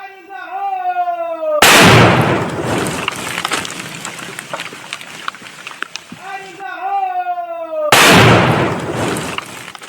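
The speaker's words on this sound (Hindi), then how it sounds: "तो जोरदार धमाका आप सुन सकते हैं। ये आईडी बम," A loud, booming IED blast erupts during bomb disposal in Bijapur, rumbling on for several seconds, then a second heavy IED explosion follows; a voice talks briefly before and between the blasts.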